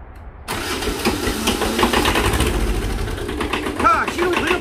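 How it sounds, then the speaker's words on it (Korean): A homemade sweet potato harvester's engine cranks after a short silence and catches, settling into a loud, uneven mid-pitched running rumble close by. "자, 시동 돌려볼까?"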